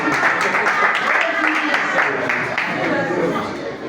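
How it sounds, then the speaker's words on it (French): Audience applause at a school gathering of teachers in Madrandele, a dense wash of many hands clapping steadily for several seconds, close and fairly loud, with murmured chatter mixed in. "On peut les applaudir entre nous."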